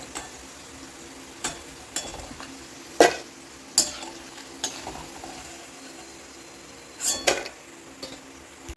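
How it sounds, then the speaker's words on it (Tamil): Raw banana chips frying in hot oil in a home kitchen, a steady soft sizzle with the oil's bubbling settling as the chips crisp, broken by scattered metallic clinks and scrapes of a stirring utensil against the pan. "எண்ணெயோட ஓசையெல்லாம் ரொம்ப அடங்கிடுச்சு, நல்லா கிறிஸ்பி ஆகிடுச்சு"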